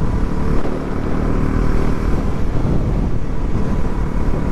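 Heavy, steady wind-blasted roar of an upgraded Bajaj Pulsar NS 400Z motorcycle ridden flat out near its top speed, engine drone buried under continuous loud rushing air.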